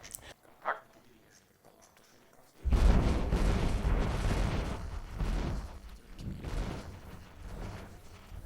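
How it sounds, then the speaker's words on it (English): German long-range heavy artillery firing on the city during the blockade of Leningrad: a faint thump early on, then a sudden loud, sustained rumbling roar of barrage that rolls on and slowly wavers in intensity. "the Germans had to bring in their famous long-range artillery that methodically destroyed"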